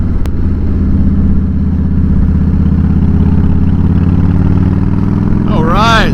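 A Harley-Davidson Fat Boy with an 88 Twin Cam engine rumbles steadily while being ridden on a highway, loud and close with a constant low drone; a voice speaks briefly near the end.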